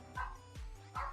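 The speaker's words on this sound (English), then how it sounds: "Sorry again for the barking, guys." A dog at home barks three times in short yipping bursts, spaced evenly and fairly close, each bark bright and sharp with quiet between.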